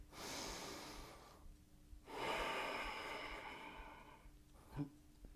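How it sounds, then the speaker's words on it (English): Deep yoga breaths close to the ear: a long audible inhale, a pause, then a long steady exhale, followed by a short sharp intake near the end. "Deep inhale. Steady exhale."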